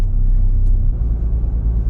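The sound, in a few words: car towing trailer driving over rutted road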